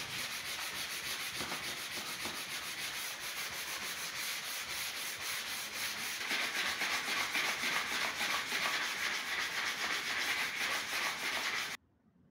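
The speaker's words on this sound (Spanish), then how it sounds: "una buena lijada para emparejar y la puerta queda completamente" Steady, continuous rasping of sandpaper rubbed back and forth over a wooden raised-panel door, close and even, growing slightly louder before stopping abruptly.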